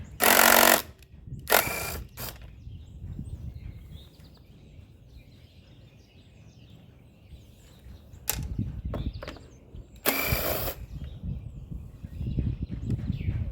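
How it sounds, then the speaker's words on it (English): A power driver removes 5/16 screws from a Hyper Tough 20-inch push mower, with several short, loud whirring bursts separated by quiet handling noises and clicks. "Alright, 5/16 screws. Take this off."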